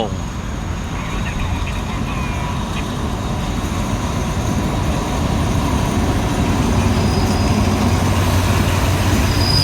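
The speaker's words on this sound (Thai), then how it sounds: "กำลังเข้าจอดสถานีรถไฟบ้านโป" Steady low rumble and rattle of an ordinary third-class passenger train pulling into Ban Pho station in Thailand, with faint squeals of wheels on the rails, continuous throughout.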